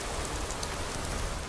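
Steady rain pours down in Skyrim, a soft, even hiss of drops spread across surfaces, constant and fairly quiet with no voices or other sounds.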